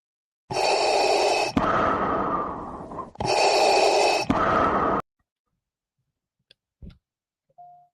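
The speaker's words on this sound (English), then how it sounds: "all that huffing and puffing and breathing" Heavy huffing and puffing breaths, two long loud gasping bursts each split in two, then silence with a faint click and a short tone near the end.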